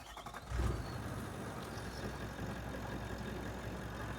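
A vehicle engine idles steadily in a workshop, a low continuous rumble holding even throughout after a brief louder thump near the start, with no speech.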